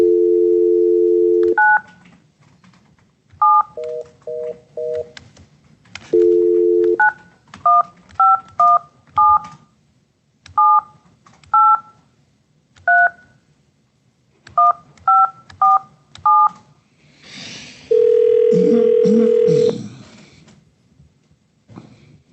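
A telephone call being placed from a judge's remote meeting room: a steady dial tone, then a rapid series of touch-tone keypad beeps in short bursts, ending in a longer ringing tone, clear and close with no talk.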